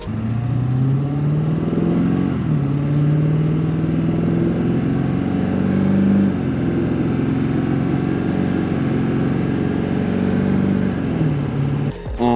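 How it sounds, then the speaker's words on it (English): A deep, rumbling diesel engine idles and revs steadily through a loud, open 4-inch straight-pipe exhaust, with a sharp change in tone near the end. "He did a straight pipe 4-inch exhaust back because it is the lovely diesel and it sounds amazing."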